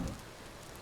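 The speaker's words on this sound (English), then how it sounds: "And it's raining again." Steady rain in the video game Vintage Story hisses evenly for under a second, a dense wash of falling drops with no other sounds.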